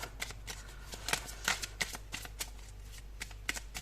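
Tarot cards shuffled close by in a quick run of crisp riffling flicks and soft card slaps, fairly quiet and without talking.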